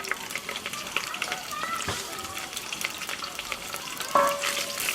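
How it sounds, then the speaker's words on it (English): Black tiger prawn shells roast in olive oil in a pan, a steady sizzle and crackle with occasional stirring knocks and a sharper hiss near the end. "we're going to be roasting the shells in that oil"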